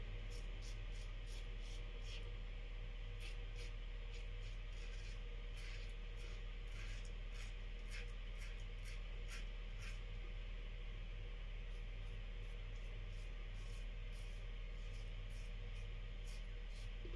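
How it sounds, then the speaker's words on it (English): A razor scrapes in a steady series of short, crisp strokes against a constant background hiss, close and fairly quiet. "The razor's performing nicely."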